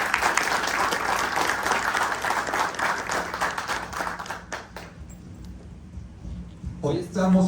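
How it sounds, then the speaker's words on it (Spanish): Applause from an audience at a book presentation event, dense clapping that fills the first half and then thins out into scattered claps and fades before a voice begins at the end. "Un aplauso también."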